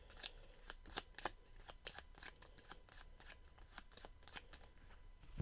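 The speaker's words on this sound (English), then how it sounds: "We're going to shuffle it up." A deck of cards for the fly-fishing board game Freshwater Fly Solo gets shuffled by hand, with a rapid run of crisp riffling flicks and snaps sounding close and alone.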